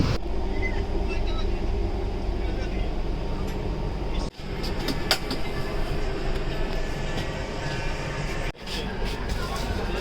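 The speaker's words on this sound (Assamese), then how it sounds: "চ' আমি ট্ৰেইনত উঠি অকণমান বহিছিলোঁ" Steady rumble and rattle inside a moving passenger train carriage, continuous low drone with brief dips, voices of people talking faintly in the background.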